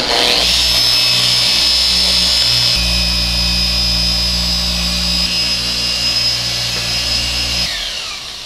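Power polisher working on keyed scratches in Tesla paint with sandpaper and compound: a loud, steady close whine that shifts pitch midway and winds down at the end, with no talking.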